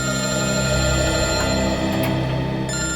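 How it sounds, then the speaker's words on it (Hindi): A telephone rings continuously, a loud, dense electronic tone filling the whole moment with no talking. "सर, टूर कंपनी वालों का फोन।"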